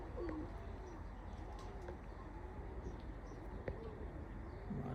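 A teddy pigeon of an old bloodline, a male bird in a loft in Oman, coos in soft repeated rolling calls close by, over a steady background hum with a few faint chirps.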